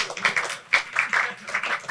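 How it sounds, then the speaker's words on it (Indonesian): An audience does the scout clap, tepuk pramuka: short rhythmic groups of claps with distinct accented beats, moderately close, lasting under two seconds. "Tepuk pramuka buat semuanya ya"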